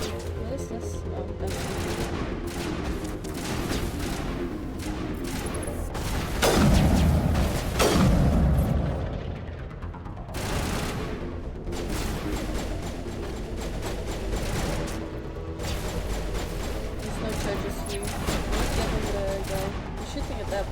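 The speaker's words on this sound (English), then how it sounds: "shooting at that box." Gunfire in the video game Mass Effect aimed at a box, scattered shots and heavier booms within a noisy game soundscape, with a louder blast cluster midway and a person talking over parts of it.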